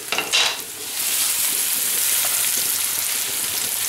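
Bolognese meat sauce of minced meat sizzles steadily in a pan, opening with a few scraping stirs, then a continuous close, bright frying hiss.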